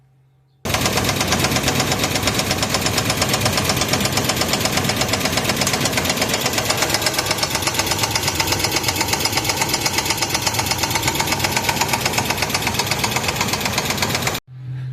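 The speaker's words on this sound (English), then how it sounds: "I think I got a rod out of the engine" Car engine with a thrown rod starts and runs for about fourteen seconds, a loud, close, rapid metallic knocking hammering steadily over the idle before cutting off.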